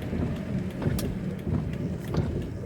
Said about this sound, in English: It's kind of raining and yucky out here